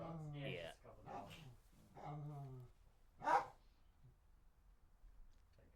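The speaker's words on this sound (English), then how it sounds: "There's some dogs. Yeah. Just a couple dogs." A couple of dogs bark outside, a few short barks and whiny yelps, with one sharper bark standing out midway before things fall quiet.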